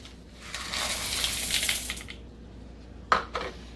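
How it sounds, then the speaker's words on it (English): Brownie toppings dumped into batter in a bowl: a rattling, crunchy pour of pieces tumbling in for a couple of seconds, followed after a pause by a sharp clink and a brief scrape. "Then you're going to go ahead and dump in your toppings."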